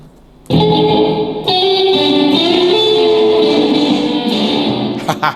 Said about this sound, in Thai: เสียงแตกกับเสียงคลีนไหวไหม